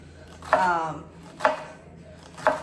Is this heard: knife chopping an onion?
yes